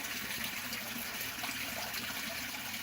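Water runs quietly into beds of red lava rock in a bioponic garden, a faint, steady hiss of flowing liquid with no voices over it.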